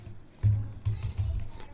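Keys tapping on an HP laptop keyboard under Windows 11, a few close, distinct clicks and taps in a short burst with low thumps, no talking.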